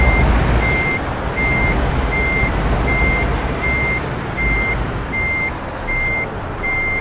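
Loud, steady reversing beeps repeating at an even rhythm over a constant rumbling truck engine, in the video game Euro Truck Simulator 2.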